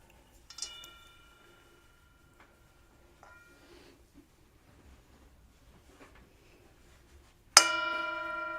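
A bell rings during a mindfulness service, struck softly once near the start with faint clinks, then rung clearly again near the end with a bright, sustained resonant tone in a quiet room.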